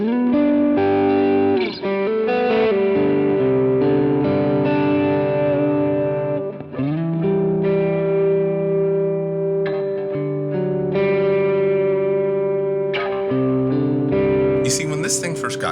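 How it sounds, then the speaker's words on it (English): A Duesenberg electric guitar plays sustained chords and notes through effects, with distortion, chorus and echo, loud and continuous as its tones are tried out, with no voices. "actually playing the guitar and seeing what the tones were able to do"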